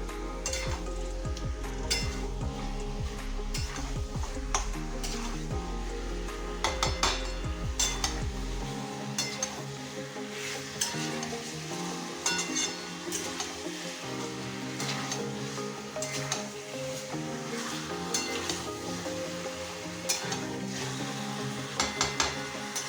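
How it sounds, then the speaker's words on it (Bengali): Chicken frying with ginger and garlic in a pan gives a steady sizzle, with spoon stirring and clinking against the metal throughout, and a tonal musical backing underneath; no one speaks. "চিকেনগুলো দিয়ে ভালো করে এই আদা রসুনের সাথে ভেজে নেব।"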